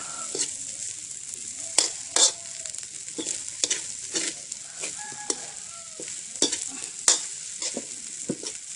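Fried rice with fresh kale being stir-fried in a pan, repeated sharp scrapes and clacks of a spatula against the metal in an irregular rhythm over a steady sizzle, close by with no talking.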